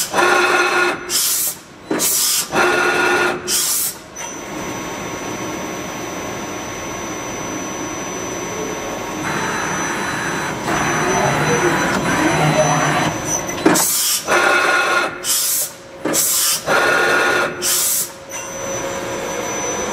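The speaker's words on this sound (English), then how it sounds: "We have the machine running through a program right now doing some tool changes." Fanuc Robodrill T14iA CNC machine running a program, a loud steady spindle and motor hum broken by repeated sharp bursts of tool changes, clustered at the start and again near the end.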